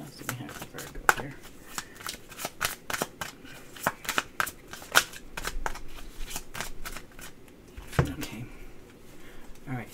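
Tarot cards being shuffled by hand make repeated crisp riffling snaps and soft slides in uneven bursts, close and clear, while a person talks intermittently over them.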